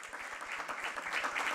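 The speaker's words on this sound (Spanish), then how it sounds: "Fuerte el aplauso." Audience at a provincial bicentenary ceremony in La Rioja applauding, a steady dense patter of many hands clapping that grows slightly louder toward the end, close and continuous.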